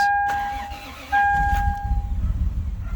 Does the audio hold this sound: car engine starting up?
yes